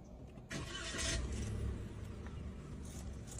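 The engine of a Perodua Axia X car cranks and catches, then settles into a quiet, steady idle heard from inside the cabin.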